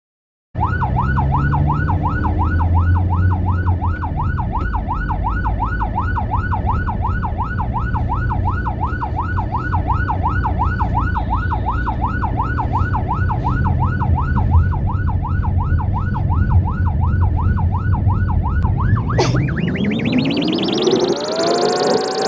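An ambulance siren on duty near Yogyakarta wails in a fast, steady up-and-down cycle, loud and close for about eighteen seconds, then sweeps into a higher rising tone as the pattern changes near the end.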